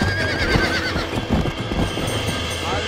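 A horse in Red Dead Redemption whinnying loudly near the listener over a rumble of hooves, a short burst of neighing and clattering against a busy in-game background.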